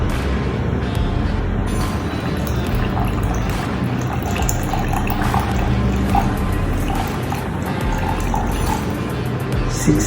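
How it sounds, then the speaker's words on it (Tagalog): Room-temperature water poured into an AeroPress over coffee grounds for the bloom, a steady trickling, splashing stream running continuously at close range with slight gurgles, no talking. "yung first pour ko, yung pang-bloom ko sa kanya, room temperature ng water"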